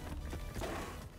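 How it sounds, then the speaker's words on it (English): Heavy-duty boots of enemies tramping in the Call of Duty zombies map Der Eisendach: a few dull, irregular thuds of footsteps against a busy game background. "They have like boots on, like heavy duty boots"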